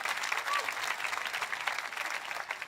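A church congregation claps steadily at a worship service, a dense, even wash of applause with no break and a brief voice heard early on.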